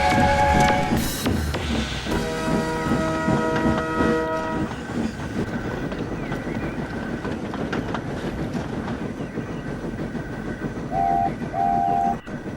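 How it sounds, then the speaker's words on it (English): A train climbing a hill rumbles and clatters steadily along the track, with loud whistle blasts at the start and two short toots near the end. "Let's get this train up the hill."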